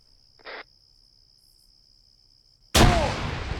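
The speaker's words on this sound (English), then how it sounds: "that was a beautiful fucking grenade, whoever threw that" A grenade detonates in a military video game: after near silence with a faint steady whine and a brief soft noise, one sudden loud blast erupts and rumbles on to the end.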